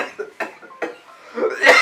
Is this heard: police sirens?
no